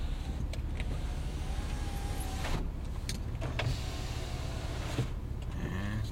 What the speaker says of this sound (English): And you roll the windows up.